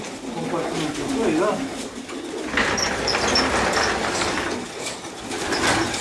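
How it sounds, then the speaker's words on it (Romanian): Racing pigeons in a loft compartment at a pigeon breeder's, soft cooing and bird calls running beneath someone talking nearby, with some fluttering and rustling. "Sunt porumbei bine întreținuți, sănătoși."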